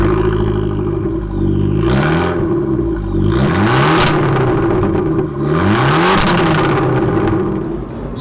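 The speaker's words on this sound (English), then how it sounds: "this car, as standard, is fitted with an Akrapovic exhaust. It has beautiful carbon fibre tips, massive great big tailpipes as well." An Abarth 695 Rivale with a factory Akrapovic exhaust and carbon fibre tips revs loudly and close, its engine note sweeping up and down in three or four repeated climbs over a constant throaty drone.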